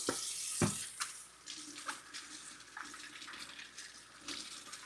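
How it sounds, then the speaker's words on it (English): Tap water runs steadily into a sink while apples are washed for vegan apple cinnamon muffins, a close continuous splashing hiss with small bursts as the fruit moves under the stream. "I'm washing off my apples now."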